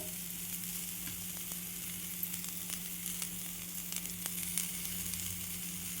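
Wheat flour batter cooks on a low flame with a soft, even sizzle that runs throughout, dotted with faint crackles and light ticks.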